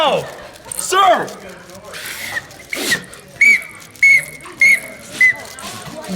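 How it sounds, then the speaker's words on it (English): Referee-style whistle blown in short sharp blasts, about five quick toots in a row, mixed with excited shouting and talk. "I'm gonna choke to death on this whistle."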